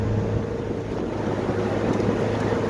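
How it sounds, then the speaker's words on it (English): Quiet, steady engine idle from a used car, a low continuous hum with a faint tonal drone running evenly throughout, no voices. "The engine sounds good."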